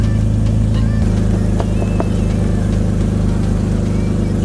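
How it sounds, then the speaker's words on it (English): A car engine runs loud and close with a deep, steady rumble and slight revving, alongside faint background noise. "Your car sounds insane"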